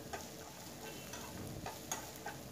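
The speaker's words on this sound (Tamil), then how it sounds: "சேர்த்து இஞ்சி பூண்டோட பச்சை வாசனை போகிற வரைக்கும் நல்லா வதக்கிக்கலாம்." Onions with ginger garlic paste sautéing and being stirred in a pan for a road-side style idli kurma, with a steady sizzle and a few light scrapes and clicks of a spoon, close and continuous with no talk.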